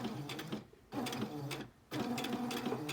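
A sewing machine stitches quilt binding in three bursts of steady whirring, each broken by a short pause, close and clear with no talking.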